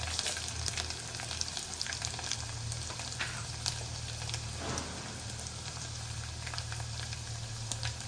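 Garlic cloves and dried red chillies fry in hot oil with a steady, close crackling sizzle, for a cabbage and raw mango dal tempering; there is no talk.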